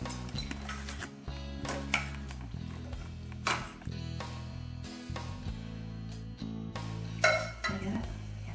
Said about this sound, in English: you wanna help scrape this out and I'll hold the pan over it